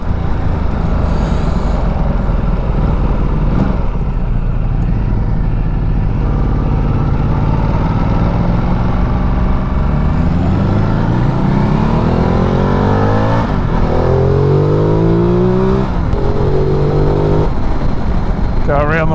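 Car engines rev and accelerate loudly and continuously, pitch sweeping up and down as vehicles speed past, with excited talk over the roar.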